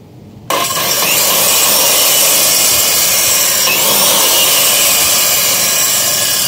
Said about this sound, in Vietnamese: tôi khuyến cáo các bạn tuyệt đối không nên sử dụng máy cưa này